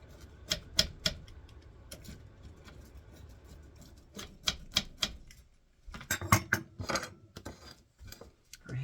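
A pizza cutter rolls and presses through a homemade diabetic-friendly pizza, giving a series of sharp clacks and taps against the pan in uneven bursts, with softer scraping between.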